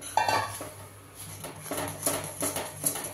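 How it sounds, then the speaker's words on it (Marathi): Rice flour being stirred into a pan to make ukad for ukadiche modak, with repeated metal spoon scrapes and clinks against the pan, close and moderately loud. "आणि ही जी पिठी आहे ती आपण टाकूयात आणि थोडं थोडं हलवून घेऊयात."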